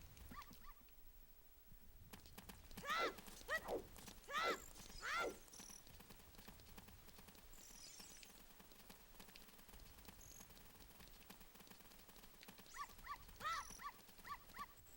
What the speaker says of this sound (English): There's this dog in town named Richard.